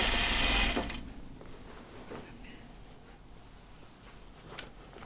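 A sewing machine runs a short, loud burst at the start while stitching curved raglan seams in knit fabric, then drops to quiet room noise.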